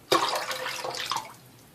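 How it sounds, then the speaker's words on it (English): Water splashes and trickles as it is poured out of a shaving lather bowl, a short close burst of about a second that tapers off into quiet dripping. "Just pouring out the water, so just moisture at the bottom"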